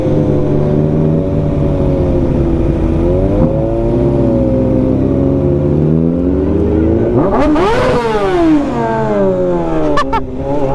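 A Kawasaki ZX6R motorcycle rumbles loudly up close, a steady engine tone that rises in a sharp rev near the middle and then settles back, with a brief clatter at the end.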